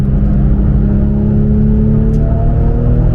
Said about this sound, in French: on arrive à 200, gros freinage. Quatrième, troisième